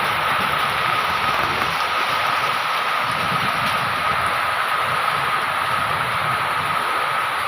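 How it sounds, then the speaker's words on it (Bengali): Steady rain drums on a tin roof, a dense, continuous rushing patter that stays loud and even throughout, with no voices. "বৃষ্টি পড়ে টিনের চালে, খড়ের জালে, খড়ের ঘরে"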